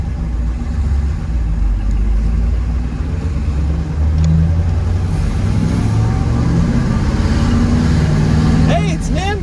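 A 1963 split-window fuel-injected Corvette pulls away, its engine a loud, steady low rumble that rises slightly as it drives off, with a faint high whine near the end.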